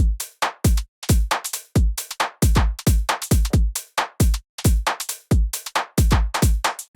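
A UK garage drum loop layers extra closed hi-hats over the main hats, with a fast, shuffling, off-grid pattern of bright ticks and punchy low kicks underneath, played loud and continuous.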